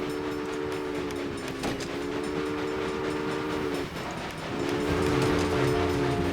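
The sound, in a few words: steam train running with horn, video game Railway Empire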